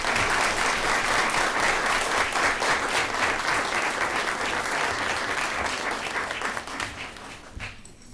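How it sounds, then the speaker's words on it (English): An audience at a Twinsburg City School District board of education meeting gives fourth, fifth and sixth graders a round of applause, dense sustained clapping that stays loud and fades slightly near the end. "Let's give our 4th, 5th, and 6th graders another round of applause."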